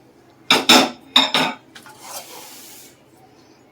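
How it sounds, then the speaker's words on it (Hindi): Chopped cabbage dropped into a bowl for vegetable Manchurian, two pairs of sharp clattering scrapes of utensil on bowl followed by a softer rustling shuffle, close and brief. "तो सबसे पहले मैं डाल रही हूँ पत्ता गोभी"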